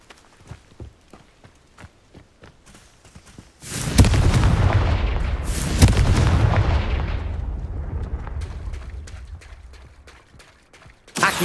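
Confringo fire spell exploding in Hogwarts Legacy, a deep booming blast that rolls into a long rumbling burst lasting several seconds, framed by lighter footsteps and clatter before and a fresh hit at the end.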